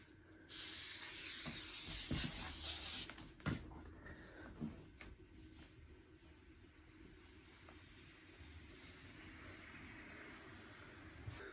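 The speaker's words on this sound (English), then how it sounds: "if you do use spray adhesive" A can of spray adhesive hisses loudly onto fabric in one sustained burst for a couple of seconds, followed by a few soft knocks and quiet room noise.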